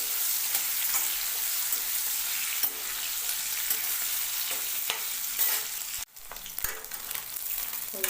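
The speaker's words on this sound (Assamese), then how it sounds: "হৈ গ'ল মুৰ্গীখিনি ভাজা" Broiler chicken fries in hot oil in a pan, a loud steady sizzle with crackling, interrupted by a brief lull and occasional stirring clicks before the frying hiss resumes.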